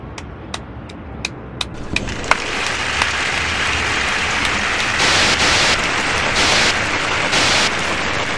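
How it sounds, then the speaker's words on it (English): Steady clapping from a crowd in a video game, a dense wash of applause that swells slightly partway through, with a few sharp claps standing out near the start. "Everybody, give a round of applause."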